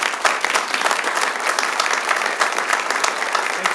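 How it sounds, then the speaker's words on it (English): A city council meeting audience gives a round of applause, a close, dense burst of clapping that stays lively and even for the full few seconds with no talking over it. "let's give them one more big round of applause"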